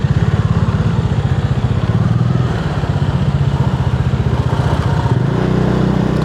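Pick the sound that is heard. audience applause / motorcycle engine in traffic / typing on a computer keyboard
motorcycle engine in traffic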